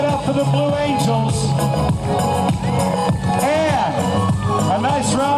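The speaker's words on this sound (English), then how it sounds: "Ladies and gentlemen, give it up for the Blue Angels." Airshow crowd at the 2024 Blue Angels homecoming show of the US Navy cheering and whooping loudly and continuously, a dense roar of many voices with shouts rising above it and a PA voice mixed in.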